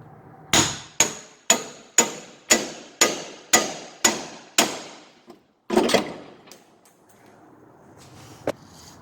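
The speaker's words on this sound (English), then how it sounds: "you can use pickle fork, and this ought to be a little bit quicker" A pickle fork is driven with a hammer to split a BMW E36 ball joint from the steering knuckle: nine sharp, loud metallic blows in a steady rhythm, then a clattering scrape and one last lighter tap.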